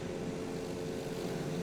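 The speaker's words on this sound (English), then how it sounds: "Yep, it's a helicopter." A helicopter flies nearby in Microsoft Flight Simulator, giving a steady, droning low rotor-and-engine hum that holds at an even, moderate level throughout.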